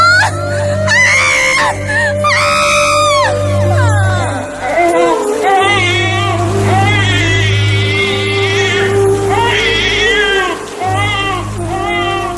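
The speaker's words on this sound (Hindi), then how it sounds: "ये किसके रोने की आवाज है?" Loud, wailing cries rise and fall in repeated high, quavering bursts over a steady low drone and faint jingling, forming an anguished, continuous sobbing scene in a dramatized story.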